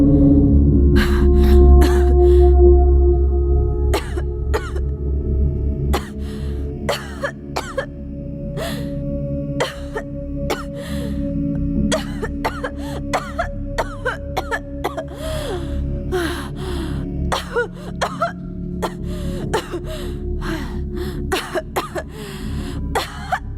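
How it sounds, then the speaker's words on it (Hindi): An actress on a film set coughs again and again in harsh, irregular bursts that run on for over twenty seconds. Throat-clearing and gasping breaths come between the coughs. "खांसी को थोड़ा कंट्रोल करो ना प्लीज"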